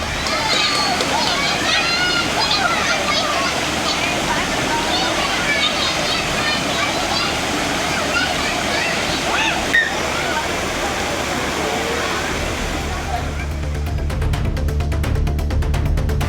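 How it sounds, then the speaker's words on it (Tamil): A waterfall and streams at the Puliyancholai tourist spot roar in a steady, loud, continuous rush of falling and splashing water, with faint indistinct voices of bathers mixed into the torrent. "அருவி மற்றும் நீரோடைகளில் சுற்றுலா பயணிகள் ஆனந்த குளியல் போட்டு மகிழ்ந்து வருகின்றனர்"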